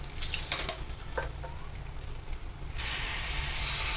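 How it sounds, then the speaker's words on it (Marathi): Semolina sheera with fried dry fruits gets stirred in a pan, a spoon scraping and a few clinks over a soft frying sizzle that swells into a steady hiss in the last seconds, with no talk. "परत मी एकदा व्यवस्थित हलवून घेणार आहोत."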